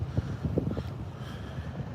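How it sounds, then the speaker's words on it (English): Wind gusting across an unshielded microphone at the Bridge wildfire off Highway 2 near Wrightwood, California, a low steady rumble with soft buffeting bursts. "Yeah, it's windy."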